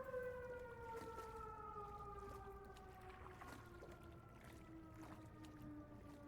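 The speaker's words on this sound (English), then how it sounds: "Oop, there goes the siren." A siren in the video game The Sinking City 2 wails with slowly falling, drawn-out tones across the whole stretch, sounding distant and eerie over a low rumbling ambience.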